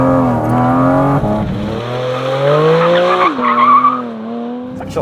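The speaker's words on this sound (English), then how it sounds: "I'm just gonna do a very basic first gear into second gear, power slide here" A used mid-engine car does a basic power slide, its tires squealing loudly while the engine revs high in first gear and then drops pitch on the shift into second.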